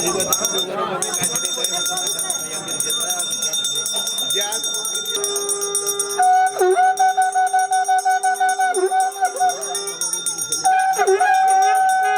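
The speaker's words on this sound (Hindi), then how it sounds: "घंटी बजाइदिनु" A small bell rings repeatedly in a steady rhythm during a Hindu puja, ringing under continuous chanting of Sanskrit mantras by a priest.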